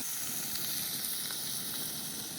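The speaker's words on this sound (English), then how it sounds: "How long does it take to cook a steak?" Steak sizzling steadily in a pan, a continuous bright crackling hiss with no break and no talking.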